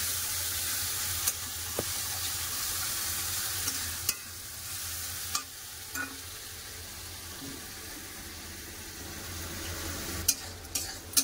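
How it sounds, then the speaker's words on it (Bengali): Onions and tomatoes fry together in a pan with a low, continuous sizzle, broken by occasional sharp clicks and taps of a spoon against the pan. "পেঁয়াজ টমেটো ভালো করে ভেজে নিয়ে দেখো পেঁয়াজ পুরো গলে গেছে, টমেটো গলে গেছে।"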